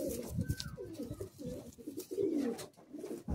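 Madrasi pigeons coo in low, rolling phrases close by, with the throaty calls overlapping and continuing through the whole stretch.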